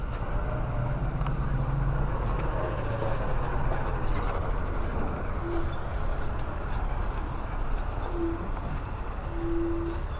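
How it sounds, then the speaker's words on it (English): A semi truck delivering a set of wheels rumbles steadily and loudly nearby, a deep continuous engine drone with a few short high squeals or hoots breaking through near the end. "And there's our semi with our wheels from CustomOffsets.com."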